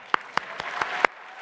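A few sharp, separate claps ring out in a slow, uneven rhythm at a metrology scientific conference poster session, sounding like scattered hands clapping rather than a full crowd.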